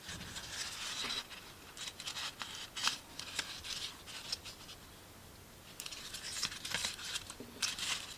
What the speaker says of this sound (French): Hop, on va couper.